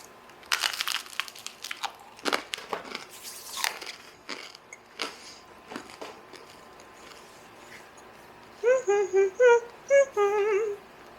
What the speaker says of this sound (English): let's try it on a piece of toast